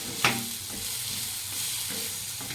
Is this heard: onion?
yes